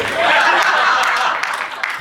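An audience clapping at a Hindi talk on laughter, a steady wash of applause with light chuckles mixed in, filling the whole brief moment.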